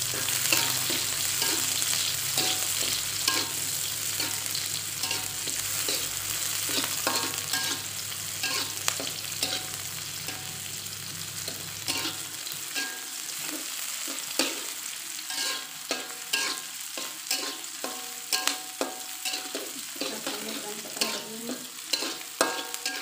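Shallots frying in oil in a pan for an eggplant stir-fry, a steady bright sizzle under repeated stirring scrapes, close and loud throughout; a low hum fades out partway, leaving the crackle and spatula strokes alone.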